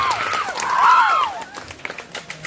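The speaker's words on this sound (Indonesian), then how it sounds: "beri tepuk tangan yang meriah dulu dong" A Balinese audience at a comedy show claps and cheers, a burst of crowd noise with whistling that thins into scattered claps.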